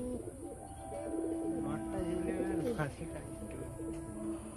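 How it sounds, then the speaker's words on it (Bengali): A pair of giant Kaldum pigeons in a cage give soft, repeated coos in a pigeon loft, heard under nearby voices talking. "এই ছেড়ে দেখাচ্ছি পিঞ্জারায় এই পায়রা দুটো।"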